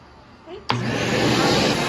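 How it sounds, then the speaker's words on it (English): A vacuum cleaner switches on abruptly and keeps running with a loud, steady roaring whine while vacuuming chairs with an extension; a faint brief sound comes just before it starts. "Next, I'm gonna vacuum the chairs."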